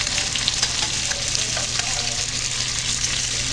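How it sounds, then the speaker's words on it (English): Shrimp sizzle steadily and loudly in a hot pan, a dense, continuous crackle with scattered sharper pops and no voices. "I'll pepper them up when I get them in the frying pan."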